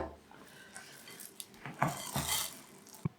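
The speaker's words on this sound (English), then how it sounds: "now let's mix in the chocolate chips" Chocolate chips being stirred into stiff cookie dough in a bowl, giving irregular scraping and knocking of a utensil against the bowl, close and fairly quiet, with no talking.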